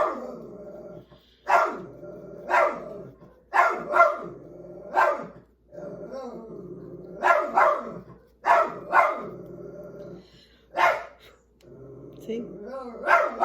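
A dog barks repeatedly at passers-by near a house, loud close barks in uneven bursts with some howling yips, while a person talks between them.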